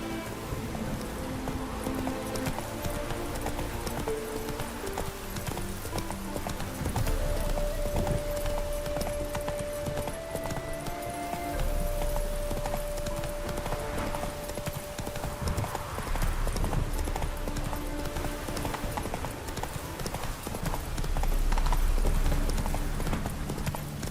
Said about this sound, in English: Giddy up.